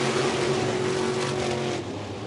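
Sprint cars accelerate hard on a short oval racetrack on a restart, a loud, dense engine roar that fades slightly toward the end.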